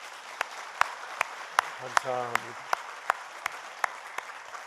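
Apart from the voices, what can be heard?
church congregation applauding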